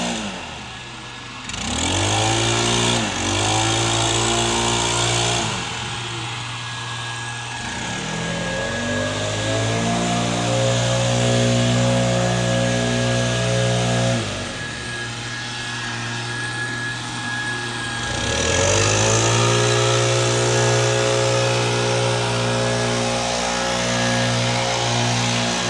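A leaf blower clears lawn debris, its engine surging and easing in repeated waves of loud whooshing drone, rising and falling several times across the stretch with no talk.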